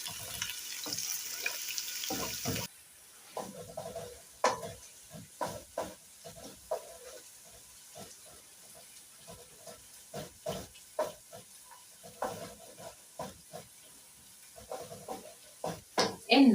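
Onions and ginger fry in a pan for beef pilau, stirred with repeated scrapes and clacks over a steady sizzle; a brief louder hiss opens before the stirring settles into an irregular rhythm close by.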